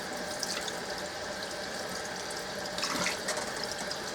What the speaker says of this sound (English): You're rinsing the starch out of this rice.